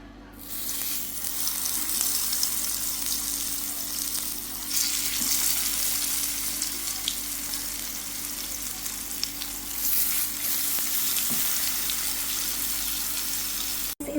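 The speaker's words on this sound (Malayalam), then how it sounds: "ഇനി നമുക്ക് മസാല തേച്ച് വെച്ചേക്കുന്ന ബ്രിഞ്ചാളെടുത്ത് ഈ എണ്ണയിലോട്ടിട്ട് ഫ്രൈ ചെയ്തെടുക്കാം" Masala-coated brinjal slices hit hot oil and fry with a loud, steady crackling hiss that starts within the first second and carries on evenly with small pops, close by and alone.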